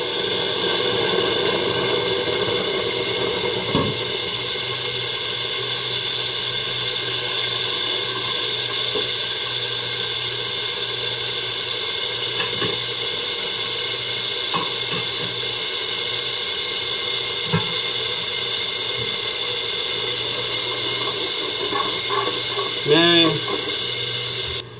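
Wet homemade spice paste, mixed with a little water, sizzles in a spoonful of hot cooking oil in a pan for qeema, making a loud, steady hiss throughout with someone talking over it.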